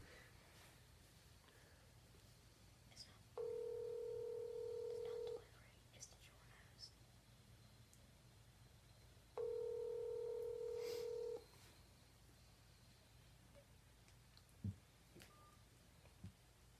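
Telephone touch-tone dialing on a phone call: two separate stretches of steady dial tones, each about two seconds long, with quiet room noise and faint speech between them.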